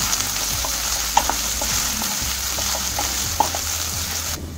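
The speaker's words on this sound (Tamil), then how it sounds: "இஞ்சி பூண்டு பேஸ்ட் போட்டு 1 நிமிஷம் வதக்கியாச்சு" Ginger garlic paste fries in a pan for mushroom tikka masala, a loud, continuous sizzle with scattered light pops and spatters throughout, no voices.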